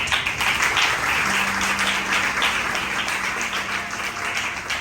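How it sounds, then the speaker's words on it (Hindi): An audience claps steadily at an indoor talk event on mental health, dense applause filling the room at a fairly even level throughout, with no voices over it. "मैं चाहती हूँ आप सब उनको तालियों में यहाँ पे बुलाएं।"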